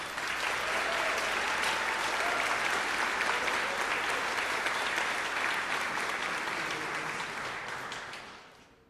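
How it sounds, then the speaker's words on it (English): An audience at a school orchestra pops concert gives loud, sustained applause from a crowd of many hands, holding steady before thinning out and fading away at the very end. "Let's give them another round of applause, please."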